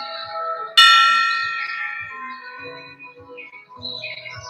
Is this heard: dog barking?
no